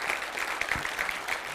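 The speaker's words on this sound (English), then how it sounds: "Big applause for Borislav Stanimirov for his first speech today." Audience applause at a code::dive 2022 programming conference session, greeting a speaker after his first talk: steady, dense clapping from a seated room, moderately loud and continuous, with no talking over it.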